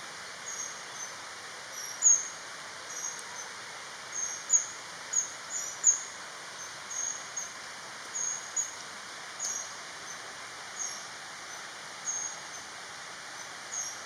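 A Black-backed Kingfisher calls beside a forest stream in Kaeng Krachan, Thailand. It gives faint, thin, high chirps scattered irregularly over a soft background hiss.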